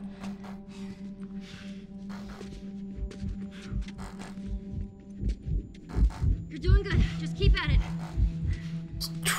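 Joel's heartbeat in The Last of Us video game, a low rhythmic thumping pulse that grows stronger and faster, heard under a steady hum and someone talking.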